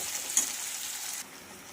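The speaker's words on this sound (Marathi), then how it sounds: "तर यावर आपल्याला हा मसाला घालायचा आहे आणि छान असा फ्राय करून घ्यायचा आहे" Masala frying in a pan for a spicy dhaba-style drumstick curry, a soft steady sizzle with a brief stir near the start, quiet and close, then dropping to a fainter hiss.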